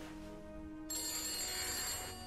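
An old landline telephone bell rings inside a house in The Beast Inside, a bright sustained trill that starts abruptly partway through. It sounds fairly close and plays over quiet room ambience, with no talking.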